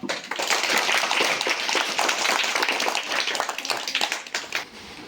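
A crowd clapping at a school felicitation event, dense, even applause of many hands that holds steady and fades slightly at the end, with a faint voice beneath.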